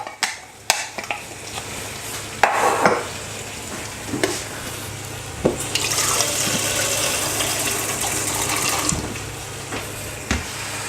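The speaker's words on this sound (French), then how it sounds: "Vous rajoutez de l'eau." Water pours into a cooking pan holding roasted chicken thighs with rosemary and thyme, giving a steady hissing sizzle for several seconds between scattered knocks of a utensil, close and alone.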